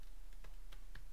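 Keys are typed on a computer keyboard in a few sparse, soft clicks spaced irregularly over a steady low background hum.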